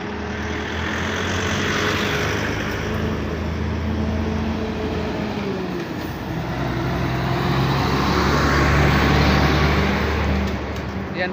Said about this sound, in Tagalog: maraming mga sasakyan dito na dumadaan